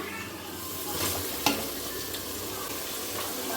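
Chopped tomatoes stirred into a frying masala, a soft sizzle with a sharp spatula clack partway through and light scraping around it.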